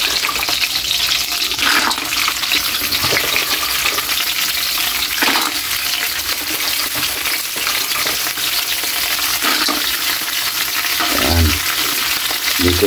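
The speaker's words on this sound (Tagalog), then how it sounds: "Gigisahin na natin yung tahong kaili." Mussels sautéing in hot oil in a pan for ginataang tahong: a loud, steady, close sizzle runs throughout, broken by occasional scraping and clattering as the shells are stirred.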